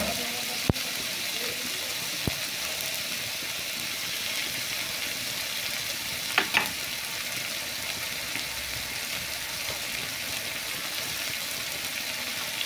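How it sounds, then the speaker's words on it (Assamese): Hilsa fish fries in a pan, a constant fine sizzle and crackle holding steady throughout, with a few sharp clicks and clatters of utensils rising briefly above it. "ধুনীয়াকৈ ভাজি ল'ম"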